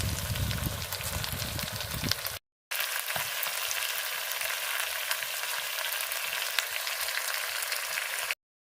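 Goat meat sautéing in a pan, a continuous dense sizzle and crackle, loud and close, broken by one brief cut of silence.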